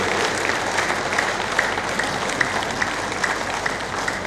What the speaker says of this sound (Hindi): फटाफट ताली बजाते रहेंगे